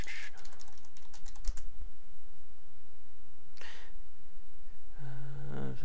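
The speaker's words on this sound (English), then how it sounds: "Maybe I'll type this in." Quick keystrokes tap on a computer keyboard in short bursts, close by but partly masked under a steady, loud background hiss.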